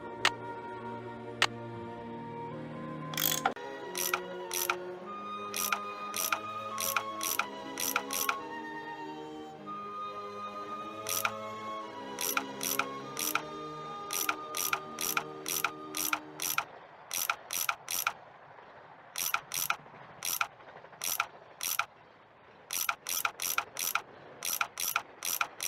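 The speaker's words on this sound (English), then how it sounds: "I bet that's what you used to unscrew these bolts." In the Nancy Drew game, a tool works loose bolts with a run of sharp mechanical ratchet clicks in rapid bursts, broken by short pauses, over a soft tonal musical backdrop that fades partway through.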